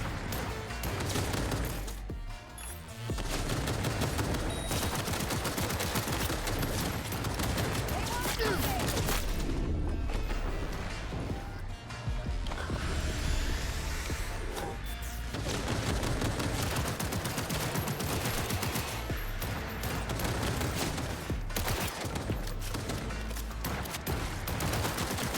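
Gunfire from the video game Cyberpunk 2077 Phantom Liberty, dense and continuous bursts of shooting with crashing impacts filling the whole stretch, a voice talking intermittently over the loud game mix.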